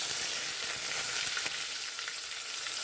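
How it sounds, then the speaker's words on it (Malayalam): Fenugreek seeds, mustard seeds, crushed ginger, garlic and green chilli fry in hot oil, giving a steady, close, bright sizzle with faint crackles and one small pop, no voices. "നമ്മളിതാ കുറച്ച് ഉലുവയും കടുകുമാണ് ഇട്ട് കൊടുക്കുന്നത് വീണ്ടും നമ്മൾ ചതച്ച് വെച്ചിരിക്കുന്ന ഇഞ്ചി വെളുത്തുള്ളി പച്ചമുളക്"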